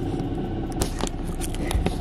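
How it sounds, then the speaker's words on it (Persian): A car engine rumbles steadily inside a vehicle, a loud low drone with small knocks and crackles scattered over it and no speech. "چقدر ماشین صدا میده نه؟"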